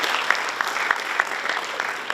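Conference audience applauding partners, a dense room of clapping with a few sharp, evenly spaced louder claps standing out near the front.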